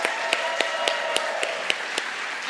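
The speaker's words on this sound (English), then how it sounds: "let's give them one last rousing round of applause" An audience at a Toastmasters speech contest applauds in a dense, even patter of many hands, with a steady rhythm of slightly louder claps punctuating the wash, close and sustained.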